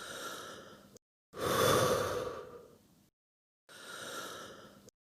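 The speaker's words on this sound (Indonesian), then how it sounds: "Lalu tarik napas dalam-dalam dan hembuskan." Slow, audible breathing up close: a long, deep inhale, then a heavy exhale, separated by brief pauses, before coughing up sputum for a tuberculosis test.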